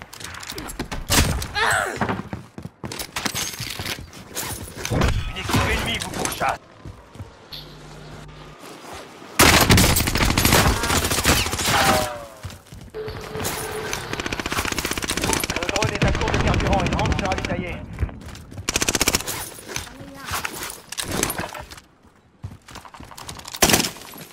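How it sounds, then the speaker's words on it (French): Gunfire in Call of Duty Warzone, apparently from pump shotguns such as the Hauer 77, Model 680 and combat shotgun, in rapid loud bursts and clustered volleys that keep coming back, with game voices talking between the shots. "On tire dessus"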